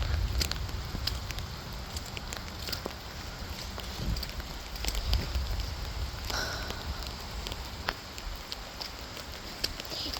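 Steady rain falls on a Nebraska livestock farm, making a continuous close hiss with scattered sharp drips and patters. No one speaks.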